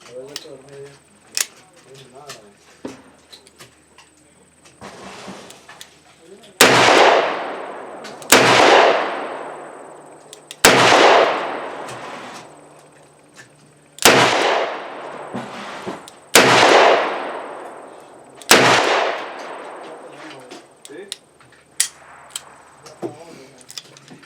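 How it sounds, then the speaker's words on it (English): Six loud, sharp shots from a Smith & Wesson Model 610 10mm revolver, spaced a second or two apart with clear echoing decay, followed by quieter handling clicks and faint sounds at an outdoor range. "It's a Model 610 revolver, and that's what it uses. So let's see how it shoots."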